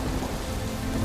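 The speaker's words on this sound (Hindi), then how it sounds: "तब तेज बारिश शुरू हुई" Heavy rain pours down over farm fields in a steady, dense hiss that fills the whole moment at an even, loud level, with no voices.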